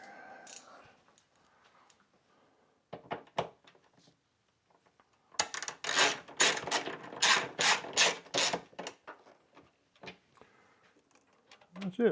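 A hand wrench ratcheting while working on a Harley Davidson FLHTCU motorcycle's fuel gauge, a burst of rapid clicking pawl strokes in the middle after sparse quieter clicks, with brief speech.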